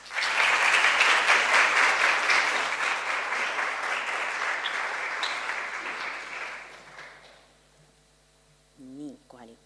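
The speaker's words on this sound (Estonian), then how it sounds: "Nii et palun võtame aplausiga Rita vastu." Audience applause welcoming a speaker at a mental health talk, a loud, dense burst of clapping that holds steady for several seconds, then thins and fades out, followed by brief microphone handling noise.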